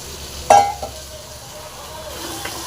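Bitter gourd and tomatoes fry in a pan with a soft, low sizzle, opening with a single sharp clink of a utensil against the pan and a lighter knock shortly after.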